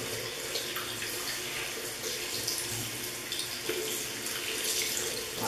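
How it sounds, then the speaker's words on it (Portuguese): A makeup sponge rinsed under a running tap, with a steady close gush of water into a sink and soft squelching as the sponge is handled and squeezed. "Eu vou enxaguar pra dar uma olhadinha."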